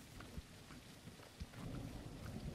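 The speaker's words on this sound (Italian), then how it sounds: "belli gli effetti sonori della pioggia che ci sono in questo momento" Steady rainfall with rumbling thunder in the survival building game Tribe: Primitive Builder, a dense wash of rain broken by several low thunder thumps, quiet and continuous with no voices.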